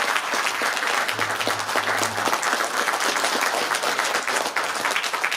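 Sustained audience applause fills the room at a book concert for a political candidate, a dense, steady crowd clapping at even loudness throughout with a faint low hum underneath.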